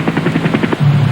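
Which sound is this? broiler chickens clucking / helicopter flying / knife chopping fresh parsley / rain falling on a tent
helicopter flying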